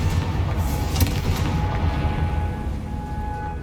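A Confringo fire spell cast in the Hogwarts Legacy video game bursts with a booming, rumbling explosion, a sharp crack near the start followed by a sustained roar that slowly fades.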